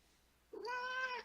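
Domestic cat giving a single clear meow, close and fairly loud, rising then holding a tonal cry for about half a second after a brief quiet start.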